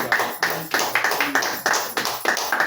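A church congregation claps in unison at a Hindi-language worship service, a steady rhythmic run of about a dozen loud, close, sharp claps with no talking over them.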